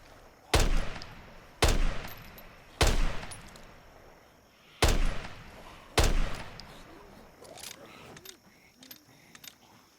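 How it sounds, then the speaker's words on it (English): Five loud, sharp gunshots from a gun in the zombie survival game Project Zomboid ring out at irregular intervals, each followed by a short decay, with fainter clinks and thuds after the last shot. "That's why I'm using the gun."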